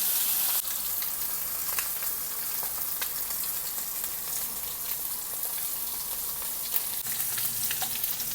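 Steady, busy sizzle of peppery Texas chicken pieces frying in a pan, crackling spits scattered over a continuous hiss, close and unbroken, with no talking.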